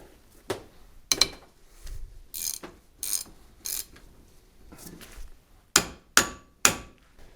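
Metal clicks and clanks from bolts being slowly loosened on excavator pilot controls during a shop rebuild, a scattered series of sharp, close knocks and ratcheting taps with quiet gaps between them.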